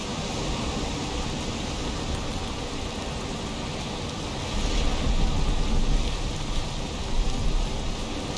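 Steady heavy downpour from a thunderstorm in the game Valheim, continuous hissing rain with a deeper thunder roll swelling midway and again near the end, loud and close with no speech.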